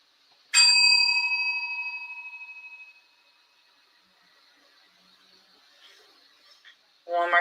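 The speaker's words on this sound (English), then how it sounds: "concentrate on really hearing the bell throughout the whole entire time that it makes a noise" A meditation bell is struck once, ringing clear and bright, then fading slowly over a couple of seconds into quiet before another brief metallic sound near the end.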